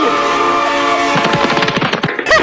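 A train horn blares and rattling, gun-like clatter builds as a train strikes a character in a Roblox game, loud and close with a busy, pulsing texture toward the end.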